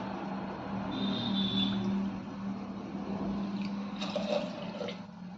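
Hot water is poured into rice in a cooker for jeera rice, a steady, close, gushing pour that rushes on for several seconds without pause.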